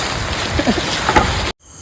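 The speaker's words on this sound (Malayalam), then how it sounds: "ഭയങ്കര മഴയാണ് ശക്തമായിട്ടുള്ള മഴയാണ് വരുന്നത്" Heavy monsoon rain pours down outdoors, a dense, steady broadband roar for about a second and a half before it cuts off abruptly.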